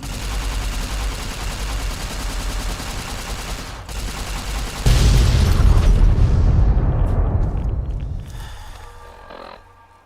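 A bomb detonates in Fallout: New Vegas Lonesome Road, with sustained rumbling gunfire-like noise first, then a sudden heavy explosion midway that booms loudly and slowly fades into scattered debris crackles.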